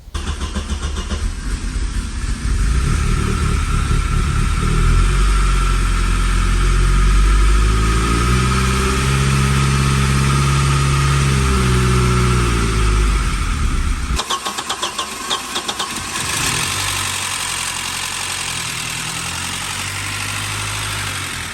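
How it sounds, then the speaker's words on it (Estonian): An Audi 80 engine, started for the first time in over two years on sprayed-in starting fluid, cranks and catches, then runs at a rough, fluctuating idle before cutting out and turning over again, loud and close with no talking. "saime isegi auto käivituma ja saime hoida teda natuke aega ka käimas"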